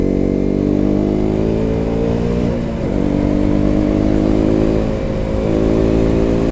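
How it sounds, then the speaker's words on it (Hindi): A motorcycle rides through Saranda forest, its mid-pitched engine droning loud and close with steady revving and slight pitch dips as the throttle shifts, no talk over it. "यहाँ पे बाइक चलाने में बहुत ही मज़ा आता है।"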